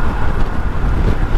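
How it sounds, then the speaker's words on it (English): Loud, steady wind roar buffeting the microphone while riding a 2019 Kawasaki Vulcan S ABS motorcycle across a big bridge at speed, with engine and road rumble underneath and no talking. "there's the wind"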